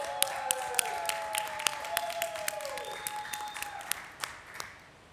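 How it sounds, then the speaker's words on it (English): Quiet, scattered applause from the audience at a COP27 UNFCCC climate press conference honouring children, with sparse claps over a steady room tone and faint tonal sounds in the background. "everyone please give a round of applause to the brave children who have come to COP27"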